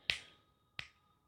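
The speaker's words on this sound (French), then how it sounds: "Désolé pour ce claquement de doigts." Two crisp, sharp finger snaps ring out close by, spaced roughly seven tenths of a second apart, each a quick bright crack with a short fading tail against an otherwise quiet room.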